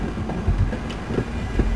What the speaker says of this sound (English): Whew, another train.